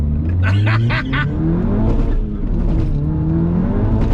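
Diesel car fitted with a hybrid IS38 turbo accelerating hard, its engine note climbing loudly and steadily with revving throughout, alongside faint tyre and wind noise while racing another vehicle.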